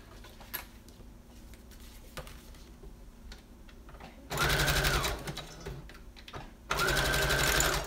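A sewing machine stitches through lace and paper in two loud, rapid bursts of whirring needle chatter, separated by quieter handling clicks and taps close by.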